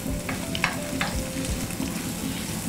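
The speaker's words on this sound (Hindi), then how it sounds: "अब देखिए तेल गरम हो गया। अभी हम डालेंगे प्याज।" Onion hits hot oil and is stir-fried over a high flame, a steady loud sizzle with repeated scraping stir strokes throughout.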